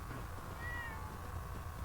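A cat in the video game Fallout 4 lets out a single faint, brief meow over a steady low background hum of game ambience.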